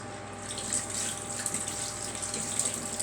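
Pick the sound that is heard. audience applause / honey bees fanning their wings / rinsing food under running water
rinsing food under running water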